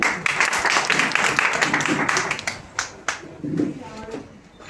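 An audience applauds for a young speaker at a DXN head office meeting, a short burst of brisk hand clapping that thins into scattered claps, with voices mixed in.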